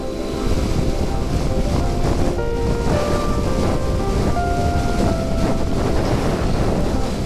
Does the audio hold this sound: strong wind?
yes